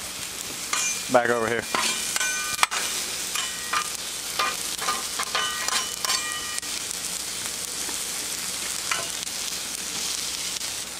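Squash and zucchini sizzling on a Blackstone 36-inch griddle, a steady faint frying hiss broken by scraping and clinking of a spatula stirring, with a brief voice speaking.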